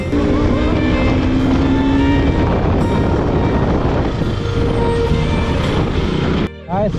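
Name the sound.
KTM RC200 motorcycle riding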